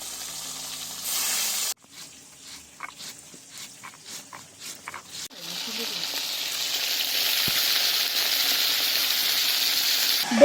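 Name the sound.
hilsa fish lightly frying in oil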